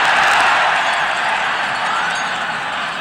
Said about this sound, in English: And the cheer goes up from the relieved Cork followers on the far side of the field